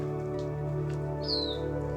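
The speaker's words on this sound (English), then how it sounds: "What kind of bird is that?" A single bird gives a clear, drawn-out whistling call midway through, set against a steady low hum on a cloud-covered mountainside, with no talking.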